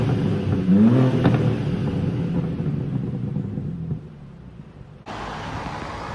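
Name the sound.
BMW G87 M2 engine revving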